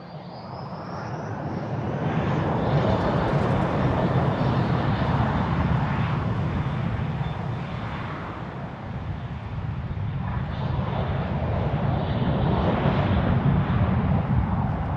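A Lufthansa Airbus A321 airliner departs Frankfurt for Malta, its engines a loud, continuous roar that swells, dips slightly midway, then builds again as it climbs out.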